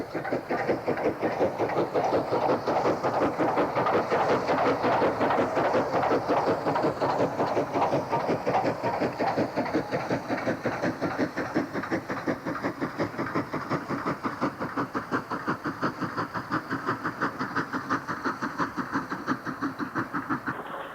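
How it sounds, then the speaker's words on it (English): An English Electric Type 4 diesel locomotive labours up the west side of the summit out of Burnley with a banking engine, a sustained engine drone with rhythmic clatter of wheels, heard alone. "An English Electric Type 4 is banked up the west side of the summit out of Burnley by an ATEF"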